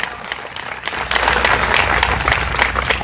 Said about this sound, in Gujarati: એકવાર જોરદાર તાળીઓ, બે ઊંચા રાખીને તાળીઓ પાડો